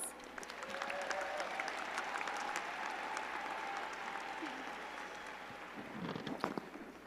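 Graduation audience at a psychology department commencement claps for award winners, sustained even applause from many people that tapers toward the end, a few louder nearby claps near the close.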